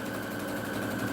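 A sewing machine stitches a fabric pencil pouch, giving a close, steady, fast mechanical whir that runs without a break.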